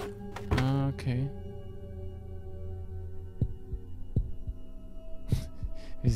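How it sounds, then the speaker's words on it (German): Heartbeat in the video game Creepy Tale, slow, deep thumps spaced a second or so apart under a low hum, after a short burst of game voice at the start and light effects near the end. "Wie das Herzklopfen kommt."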